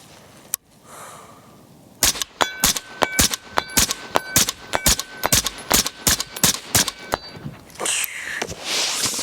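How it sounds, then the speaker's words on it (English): Rapid string of rifle shots from a rifle fitted with an inexpensive scope, about eighteen sharp, loud cracks in quick irregular succession after a single early shot and a short pause. "I'm gonna do a little bit of rapid fire here."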